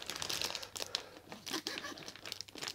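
A plastic wrapper around a Max Coffee chiffon cake crinkles and tears in short, close bursts of rustling.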